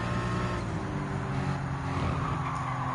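Race cars in Gran Turismo 7 roar across dirt as one overtakes a Lancia Delta, a continuous engine drone held at a steady, moderate level with no talk.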